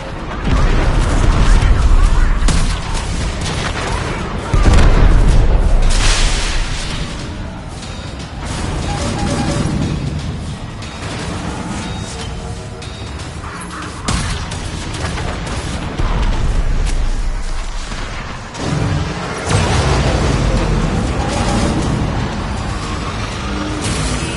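Missile explosions in the space combat of the video game Warframe's Railjack mode, heavy booming blasts and crashing impacts rolling over a dense, loud battle din, with a synthetic voice announcing alerts intermittently.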